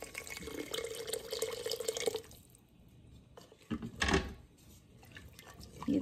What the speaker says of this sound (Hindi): ये देखिए इस तरह से ये हमने पानी डाल दिया, इसमें इतना पानी है।